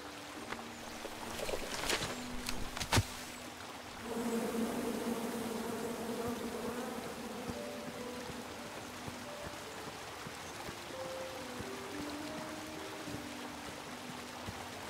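Angry bees swarming from a tree in the video game King's Quest, a dense droning buzz with wavering insect tones that swells after a few sharp knocks and carries on steadily, with no talk over it.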